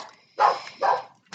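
Dog barks nearby indoors in two loud, separate woofs about half a second apart, with the start of a third cut off at the end, and no talk over them.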